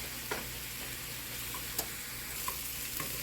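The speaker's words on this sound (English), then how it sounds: "I'm letting these cook down in some butter and olive oil" Mushrooms sizzle steadily in a pan of butter and olive oil, a continuous close frying hiss broken by a few sharp clicks of stirring, with nobody speaking.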